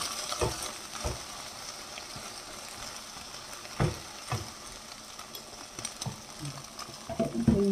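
Fish frying in a pan gives a steady close sizzle and crackle throughout, with a few sharp pops and clatters from the pan rising near the end.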